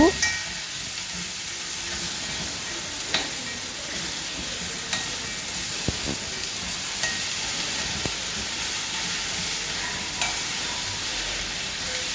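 Ivy gourd being stirred with chilli and turmeric in a pan, a steady close frying sizzle with occasional scrape and clink of the spoon against the pan, no talk.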